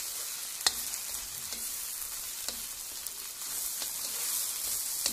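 Eggs fry in a hot pan for char kway teow, a continuous crackling sizzle with a few sharp pops and stirring scrapes, close and alone.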